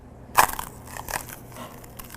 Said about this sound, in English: When ice breaks, it makes a sound.